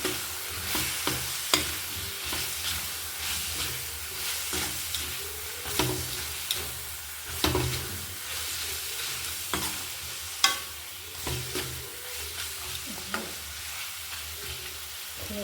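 Carrots and cabbage being stir-fried for a pasta dish give a continuous sizzle, broken by irregular knocks and scrapes of a spoon against the pan.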